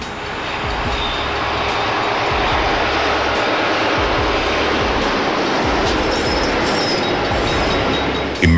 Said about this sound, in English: a stray freight train, and a near miss.